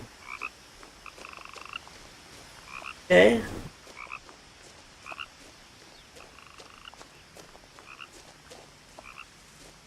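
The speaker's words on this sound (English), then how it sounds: "You hear the frogs?" Frogs croak in repeated short bursts throughout a quiet outdoor scene in the video game What Remains of Edith Finch, with a brief louder rustle partway through and a single spoken word.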